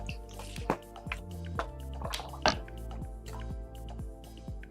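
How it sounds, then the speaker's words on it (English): A person takes small drinks of water, close up: a series of wet gulps and liquid squishes in an uneven rhythm, fairly quiet, with no speech. "I need to take a small drink of both water"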